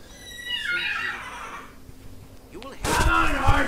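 A horse whinnies in the Jade Empire game, a short neigh rising early and fading, followed by louder scuffling and clatter near the end.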